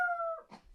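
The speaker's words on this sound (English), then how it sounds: "That's the dog" A single short dog whimper indoors: a thin, steady whining tone that slides down and breaks into a brief breathy yelp, heard alone.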